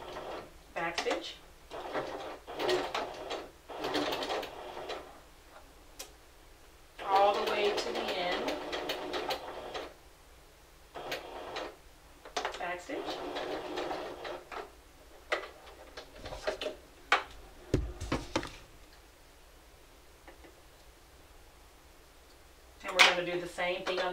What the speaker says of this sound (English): So we're going to sew in 1/4 inch seam here.